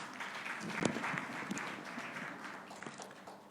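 A conference audience at a panel on participatory budgets claps for a guest as he is called up to join. The applause is soft and even and runs for several seconds.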